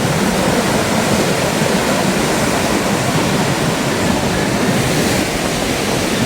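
Dense, continuous roar of sea waves and surf, loud and close, with no voices over it.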